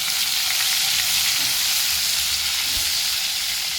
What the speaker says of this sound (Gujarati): હવે આપણે અડધું ઝીણું કટ કરેલું ટમેટું છે એ એડ કરી દઈશું.